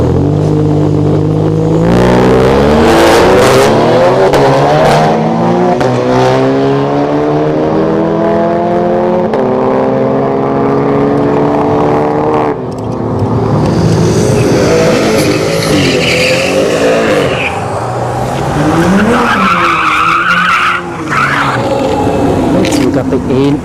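Drag racing cars, a VW GLI and a Ford Taurus, launching at a dragstrip, heard as loud engines revving and climbing through gears with tire squeal, while people talk over the roar.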